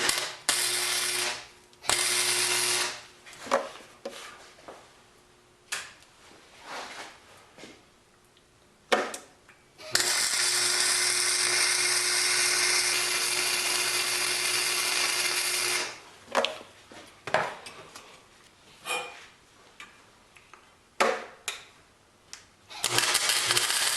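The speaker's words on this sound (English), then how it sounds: "Just going to put a few tacks on. I'll weld everything up after I've got it sort of tacked together." Tack welding on a metal bed frame makes a series of short buzzing bursts and one long continuous weld hiss. Quieter clanks and handling noises come in the gaps between them.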